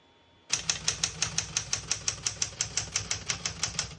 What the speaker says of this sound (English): We're going to keep it on single and finish typing.